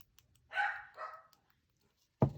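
Two short dog barks close by, a sharp first yelp and a slightly lower second, followed by a brief thump after a pause.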